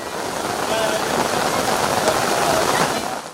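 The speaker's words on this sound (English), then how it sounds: "The rain persists." Steady rain falls over floodwater with waves. A constant, even hiss of moderate loudness runs without pause for the whole stretch.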